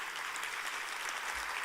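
A church congregation applauds in a steady, even wash of clapping that carries through a brief moment without any break.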